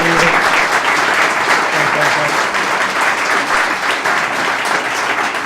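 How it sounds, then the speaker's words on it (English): Sustained, loud audience applause for artist Liam Reading at an art exhibit unveiling in a peer-run recovery center, a dense, even wash of clapping that fills the whole stretch without letting up. "let's give it a round of applause to"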